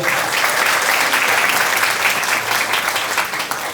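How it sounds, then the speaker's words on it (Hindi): A crowd at a Gayatri Yagya gathering in Anaheim, California claps loudly and densely, a close, continuous burst of applause lasting the whole stretch with no speech. "मोहन भाई के लिए एक बार जोरदार ताली बजाइए।"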